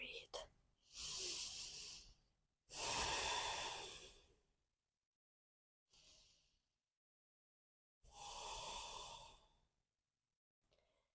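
Slow, deep breaths while holding downward facing dog in a classical sun salutation yoga sequence: four long airy inhales and exhales, close and fairly loud, separated by silent pauses, with no talking.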